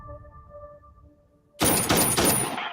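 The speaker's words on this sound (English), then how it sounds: "I'm hearing all kinds of gunshots down the street from my house" Rapid bursts of gunfire from a film trailer erupt suddenly after a quiet tonal stretch, loud and dense like automatic weapons firing in a sustained volley.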